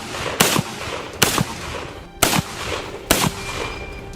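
M1 Garand rifle firing, four sharp loud reports spaced evenly under a second apart, each with a short echoing tail, close and with no voice.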